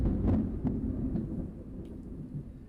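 Low rumbling thunder from a thunderstorm rolls on continuously, a deep heavy roar heard indoors with no talking.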